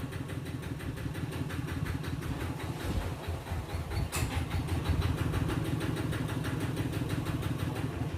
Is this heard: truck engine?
yes